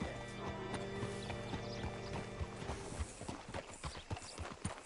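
Horse hooves clip-clop in an uneven rhythm in Red Dead Redemption 2, with a horse whinnying and a steady hum of game music behind them.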